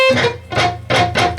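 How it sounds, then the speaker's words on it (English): Four short, harmonic palm-muted electric guitar notes, each choked and cut off quickly, played loud and close with brief gaps between them. "or you're going to choke the note out. It'll sound like this."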